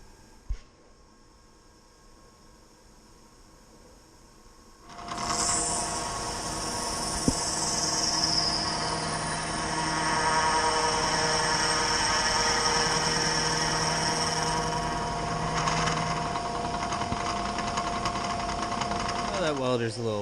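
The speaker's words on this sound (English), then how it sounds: "That welder's a little loud." A welder runs while an axle tube is welded during a restoration of an Allis-Chalmers D17 Series IV tractor: after a quiet start, a loud steady electrical buzz and hiss begins and holds for about fifteen seconds before cutting off.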